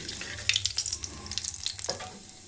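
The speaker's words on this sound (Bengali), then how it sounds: "আর কিছুটা দিয়ে দেবো কালো জিরে। কালো জিরেটা একটু ভাজা ভাজা হয়ে গেলে পরে" Black cumin seeds with a bay leaf frying in hot rice oil crackle and spit in quick, irregular bursts close up, a busy popping sizzle that eases off at the end.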